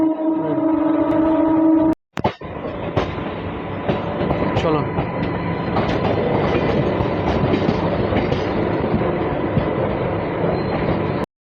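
A loud MEMU train rumbles past nearby as it arrives at Andal on the Asansol–Bardhaman line, with a continuous roar and rhythmic rail clatter, preceded by a steady horn-like drone that cuts off abruptly.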